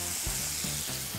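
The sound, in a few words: rosemary sizzling in a frying pan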